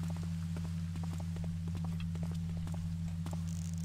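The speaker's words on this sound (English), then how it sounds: "And I heard more footsteps as well." Footsteps in a Thief fan mission video game, a steady sequence of soft, evenly spaced steps over a constant low electrical hum.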